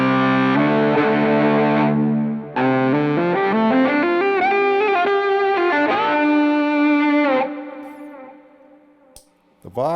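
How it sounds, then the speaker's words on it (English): Electric violin played through a Sparkle Drive distortion pedal, a sustained, harmonically rich melody with sliding pitch changes, loud and close, fading out near the end. "So we'll use my sparkle drive, a little bit of distortion"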